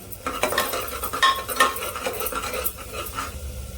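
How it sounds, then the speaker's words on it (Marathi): A spoon stirs salt into roasted masala in a pan for spicy mutton paya soup, giving close, steady scraping and clinking against the metal with a faint sizzle beneath. "मी चवीनुसार मीठ घालून घेते मिक्स करूया"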